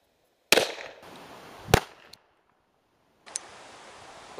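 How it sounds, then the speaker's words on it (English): A Colt 1911 pistol fires a .45 ACP round at a number 2 pencil on a range, two sharp, loud close reports about a second apart, followed by a fainter crack. "we're going to start by cutting a number 2 pencil in half with a 45 ACP bullet"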